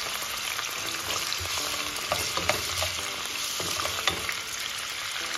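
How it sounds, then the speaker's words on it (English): Corn fries in a pan, a continuous close sizzle broken by scattered crackles and pops, with no talk. "As you can see, I am frying the corn."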